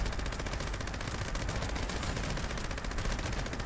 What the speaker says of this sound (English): Next, we're going to be going over the two-shot Gauss minigun.